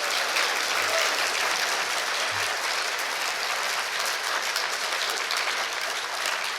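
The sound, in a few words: tepid applause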